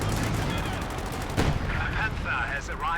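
A bunker-busting artillery barrage in Company of Heroes 2 booms as a dense rumble of rapid game gunfire and blasts, loudest mid-way, while a commentator talks over it.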